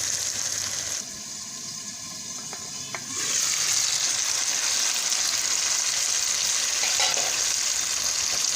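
Potatoes and spices fry in a pan for fish curry, a steady close sizzle that swells louder after a few seconds with brief stirring scrapes; no one speaks.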